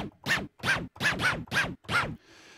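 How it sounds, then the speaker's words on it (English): Record-scratch effect triggered in an iOS sampler app: six sharp, evenly spaced scratchy sweeps about every third of a second, loud and close, ending in a faint hiss with no talking. "Scratching."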